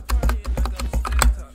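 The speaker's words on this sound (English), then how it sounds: "I still hear the keys really loudly for me." Rapid typing on a cheap $30 computer keyboard during a Bedwars game, a quick irregular stream of loud, close clicky keystrokes.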